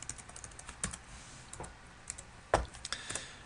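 Computer keyboard typing while entering a line of database code: sparse, uneven keystrokes with a few louder taps, close and fairly quiet, no talking.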